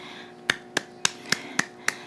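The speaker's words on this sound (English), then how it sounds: "that's a hand clap right there" Six sharp hand claps in a steady, evenly spaced rhythm, crisp and close, sounding alone over a faint background hum.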